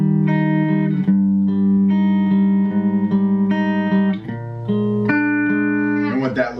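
Guitar plays a chord progression for a song lesson with a 5 chord added on the second pass, chords changing every second or so, sustained and close with no talking.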